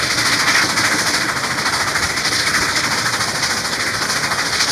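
A diesel passenger train, Pennsylvania E units, departs with a steady rumble, continuous mechanical roar and faint rhythmic clatter, moving close by with no voices.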